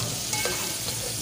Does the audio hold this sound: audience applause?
no